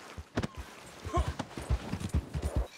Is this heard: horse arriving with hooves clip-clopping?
yes